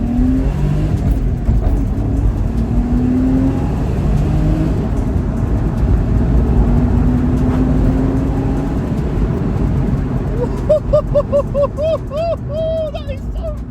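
Porsche sports car engine running steadily while driving, a continuous loud drone mixed with road noise throughout, with a voice talking over the final few seconds.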